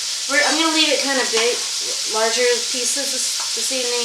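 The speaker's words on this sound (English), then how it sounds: "You can hear it sizzling in the background." Beef for beef stroganoff sizzles steadily in a hot pan, low and continuous beneath a person talking close by throughout.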